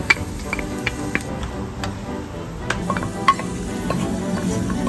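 Garlic frying in oil gives a steady close sizzle, dotted with irregular clicks and taps of a utensil stirring in the pan.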